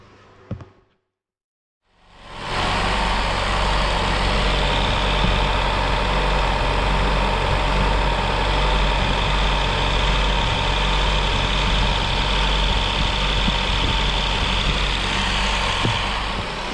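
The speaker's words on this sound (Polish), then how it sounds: "ja odpalam auto i zaraz zobaczymy" A car engine cranks and catches after a brief quiet moment, then settles into a steady, loud idle rumble that continues unbroken to the end; the engine is cold and has excessive oil pressure.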